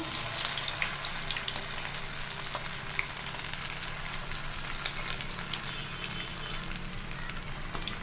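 Fish sizzling and crackling in hot cold-pressed sesame oil on a flat dosa griddle, a steady frying hiss with occasional sharp pops, close up and without voices.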